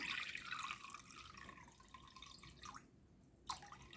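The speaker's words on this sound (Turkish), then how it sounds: "Salamurası için şimdi bir kabımın içerisine şöyle su koyacağım" Water is poured into a container for pickle brine, a close, soft splashing trickle that thins out and pauses midway before resuming briefly.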